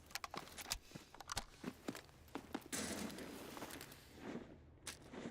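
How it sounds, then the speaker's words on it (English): Footsteps in the shooter game Delta Force, a faint run of quick crunching steps with clicks and thuds, gathering into a brief rush of noise before scattered steps resume. "I hear footsteps."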